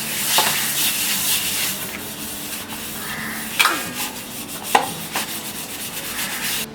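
Brass plate being scrubbed clean in a kitchen, a steady gritty rubbing with a few sharper scrapes and knocks, close and moderately quiet.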